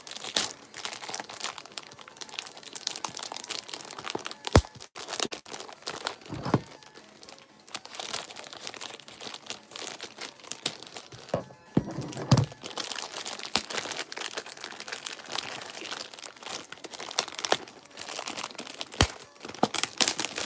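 Plastic wrapping crinkles and crackles around a sealed box of Final Fantasy Opus 1 trading cards, a steady close crunching texture running throughout with brief louder snaps and a few sharp handling knocks.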